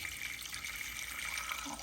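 Cold tap water pours steadily into a pot in a kitchen, a soft continuous hiss and splash of filling water, faint and unbroken with no speech.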